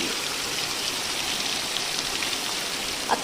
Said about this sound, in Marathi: आज एवढा जोरात पाऊस पडतोय पहा